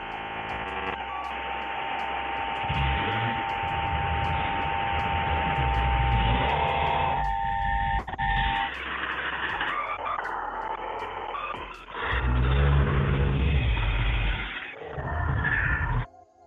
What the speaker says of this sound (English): that was Morse code at the very beginning